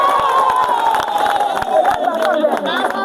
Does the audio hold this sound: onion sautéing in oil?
no